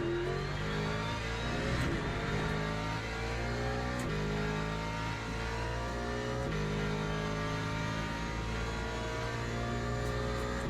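A Corvette race car engine in the video game Le Mans Ultimate, droning steadily at high revs from close by with several brief dips as gears shift, loud and continuous throughout.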